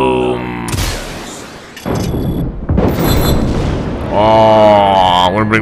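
Explosions ripping apart a satellite dish in the Just Cause 3 video game: several loud, heavy booms in quick succession, followed by a voice-like tone near the end.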